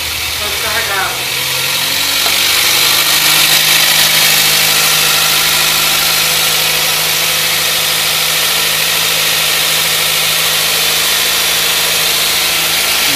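A car engine runs steadily at idle with a dry, metallic rattling tone, loud and continuous throughout, with people talking over it.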